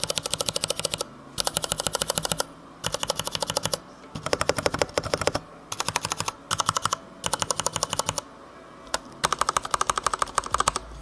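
Mechanical keyboard with Cherry MX Red switches typing in rapid bursts of clicky keystrokes, close and loud, separated by short pauses.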